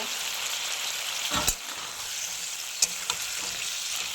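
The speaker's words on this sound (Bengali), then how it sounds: "এবার ভাজা ফুলকপিগুলো দিয়ে দেব" Fried cauliflower goes into sizzling cumin and chilli spice masala for a tangra fish curry, giving a steady, close frying hiss with a few brief clatters of the pan or spoon.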